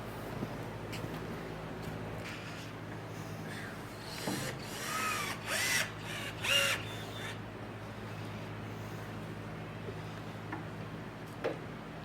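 A power drill drives screws through a tabletop into its frame in quiet indoor surroundings, with several short whirring bursts clustered in the middle among faint clicks and handling noises.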